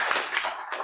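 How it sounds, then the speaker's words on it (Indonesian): A few hand claps from a classroom audience, sparse and short, three soft bursts close by with no voices over them. "Tepuk tangan dulu."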